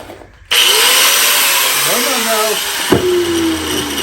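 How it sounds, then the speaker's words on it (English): Angle grinder fitted with a new cutoff wheel cutting metal, starting abruptly with a loud, sustained high whine that dips in pitch under load, with a sharp clack near the end. "I'm gonna use this nice new cutoff wheel."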